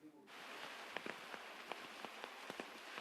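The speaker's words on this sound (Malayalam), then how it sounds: "തിരുവനന്തപുരത്ത് ഇന്ന് രാവിലെ തുടങ്ങിയ മഴ ഇപ്പോഴും തുടരുകയാണ്" Heavy rain in Thiruvananthapuram comes through as a faint, steady patter with distinct drips striking close by at irregular intervals over a few seconds.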